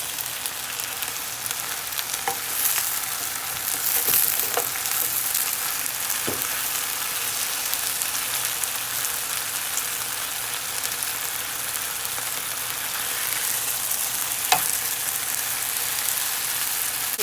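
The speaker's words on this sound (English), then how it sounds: "Some of the chicken pieces are sizzling up" Chicken breast seasoned with Trader Joe's Elote seasoning sizzles in a pan, a steady, close, hissing fry with a few sharp pops and no talk.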